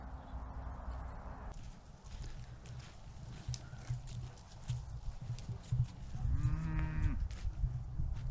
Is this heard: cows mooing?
yes